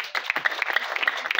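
Dense applause from wedding guests at a Rwandan wedding celebration, many hands clapping steadily and fairly close, with a few sharper individual claps standing out over the crowd.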